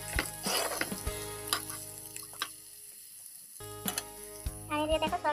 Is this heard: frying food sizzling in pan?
yes